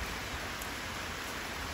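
Light rain falls steadily around a Thai elephant camp, a soft, even hiss that holds unchanged from start to end with no voices.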